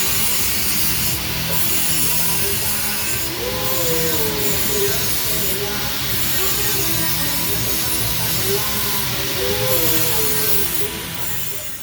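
Cutting unneeded mounts off a 1986 BMW K100 motorcycle frame, a steady back-and-forth rasping saw stroke on metal, close and loud, running continuously with a repeating rhythm.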